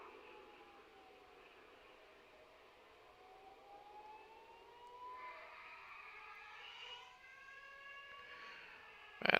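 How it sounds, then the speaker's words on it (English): Distant civil defense sirens wailing with slow rising and falling tones, faint and layered, ending in a sudden close noise. "you just hear those sirens"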